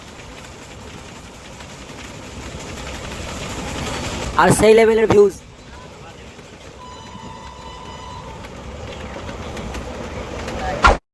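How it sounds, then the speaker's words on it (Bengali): A train runs past at high speed near Mayapur, a steady rumble with a loud horn blast near the middle, while a person talks over it. "অনেক স্পিডে ট্রেন চলছে"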